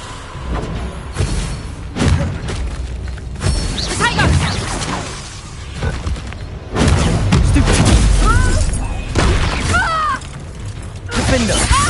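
Bombarda spell blasts in the video game Hogwarts Legacy, repeated booming bursts and crackling impacts during a magic duel, loud and mixed with shouted spell calls and other voices.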